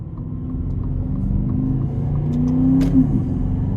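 Aston Martin DBX luxury SUV engine and exhaust accelerating from inside the cabin, a steady close rumble that swells as the revs climb, with a brief gear-change blip near the end.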